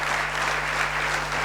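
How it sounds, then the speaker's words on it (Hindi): An audience at a motivational talk claps in a steady, dense burst of applause that fills the short stretch evenly with no voices on top. "मैं चाहूंगा इनके लिए जोरदार ताली बजना चाहिए"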